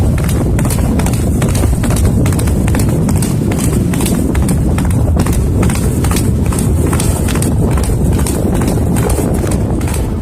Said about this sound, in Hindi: अपने घोड़े कंथक पर बैठकर सिद्धार्थ गौतम ने अनुमा नदी को पार किया